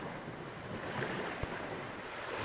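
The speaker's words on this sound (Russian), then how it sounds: "Море волнуется." Steady wash of waves and wind on Lake Issyk-Kul, Kyrgyzstan, continuous and fairly faint, with a brief thump partway through and no voices.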